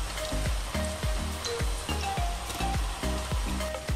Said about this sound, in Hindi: कोफ्तों को हम तेल के अंदर ऐड करेंगे और इस तरह से पहले एक साइड से इनको अच्छे से सिकने देंगे, फ्राई होने देंगे